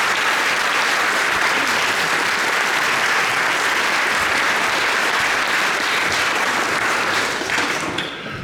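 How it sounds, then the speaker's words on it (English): Audience inside St. Wilfrid's church at a young musician competition gives sustained, loud, dense applause, a steady wash of many hands clapping that tapers slightly at the very end. "let's have a round of applause for everyone here at St."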